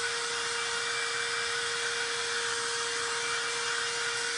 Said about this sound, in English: Doesn't take long, especially when you're using a dryer. That's like a heated dryer.